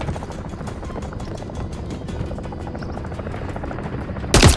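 Attack helicopter in the shooter game Call of Duty: Modern Warfare III, a steady rotor drone with rapid gunfire-like bursts throughout, ending in a sudden loud impact.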